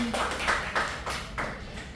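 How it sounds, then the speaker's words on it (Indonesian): A class of students clapping together at the end of a school biology practical session, a scattered, moderately loud patter of hands with no talk over it. "boleh dong sekali lagi tepuk tangan buat kita semua udah praktikum hari ini"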